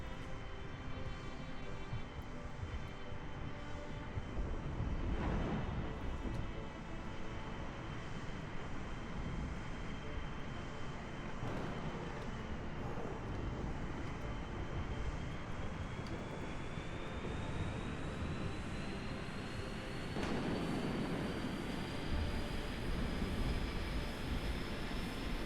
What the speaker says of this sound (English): We're gonna be bad and take off on the taxiway because there's nobody to stop us